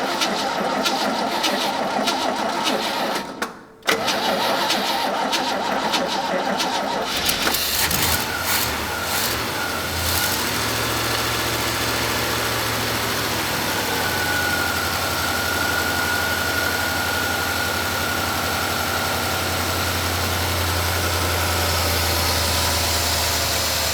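An old GMC truck engine cranks and starts, with a brief dropout, then settles into a rough, steady idle with a low rumble and vibration that continues at close range for the rest of the clip.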